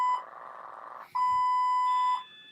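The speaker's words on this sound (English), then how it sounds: "This is annoying. This beeping." An electronic beeper sounds two long steady tones, each about a second, loud and close with a short gap between them, with no talking.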